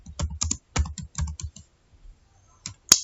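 Field names are typed on a computer keyboard while setting up a Microsoft Access table, with close, crisp key clicks coming in quick bursts separated by short pauses, ending on a sharper keystroke.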